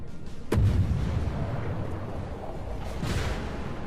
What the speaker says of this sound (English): Looks like an enemy gearing shooting at him.